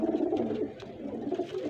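Pigeons from a group of about fifty birds coo steadily and close by in a soft, continuous, throaty murmur.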